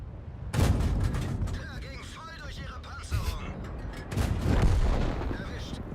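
A tank's low-tier derp gun fires in World of Tanks, with several heavy booming blasts and rumbling battle noise, and someone talks over the action between shots.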